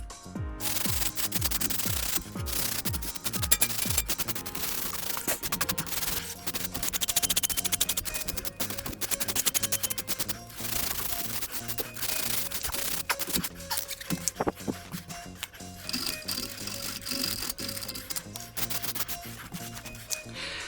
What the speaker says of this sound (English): first we need to clean the caliper. I'll use a metal brush.